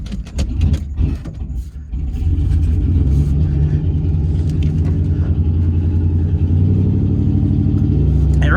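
An old junk truck's engine runs steadily at a loud, close idle, its low rumble settling into a constant drone after a few uneven revs at the start.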